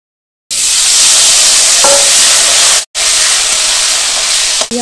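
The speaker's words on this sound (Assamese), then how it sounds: "এতিয়া আলুখিনি অলপ ভাজি ল'ম, অলপ ৰঙচুৱা পৰালৈকে।" Potatoes fry in oil for a ridge gourd curry, a strong close sizzle that starts abruptly, breaks off for a moment, then resumes, with a faint utensil clink.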